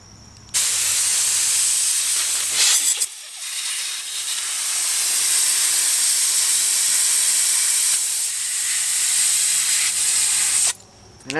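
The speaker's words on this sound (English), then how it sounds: "Now I'm just going to go and use some compressed air and just blow it out." Compressed air blasts sand out of a freshly formed copper induction heater work coil, a loud steady hiss running nearly continuously, with a short pause about three seconds in and cutting off near the end.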